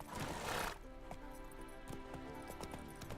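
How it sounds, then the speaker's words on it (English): A spooked horse in The Witcher video game whinnies briefly and faintly after a short burst of rushing noise, with light hoof clatter and ambient game sound underneath. "Spooking my horse."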